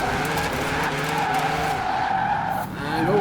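A 1016HP V8 Rocket Bunny MX5 drift build slides through mountain roads in Forza Horizon 4, its tyres skidding in a long, continuous squeal over a loud, droning engine note, with a voice speaking briefly.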